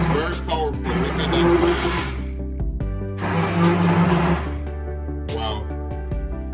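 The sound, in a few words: hand blender running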